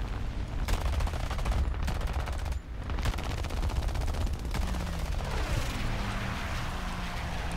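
Sustained automatic machine gun fire in War Thunder amid urban fighting between high-rise buildings, a dense rattling stream of shots that runs almost continuously with one brief pause, loud and close with a vehicle rumble underneath.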